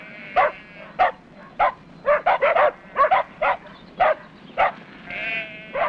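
Several dogs barking in a pack, a dozen or so sharp, separate barks in an irregular rhythm, fairly close, with some higher whining calls between them.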